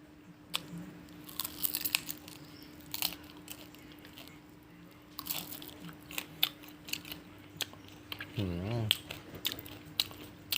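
Crunchy chewing and biting of fried field rat with thick skin, a series of close, sharp crunches spread through the clip with a brief voiced sound near the end.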